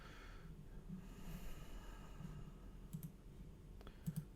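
A computer mouse is right-clicked during 3D modelling work, giving a few faint, sharp clicks spaced about a second apart in a quiet room, with no talking.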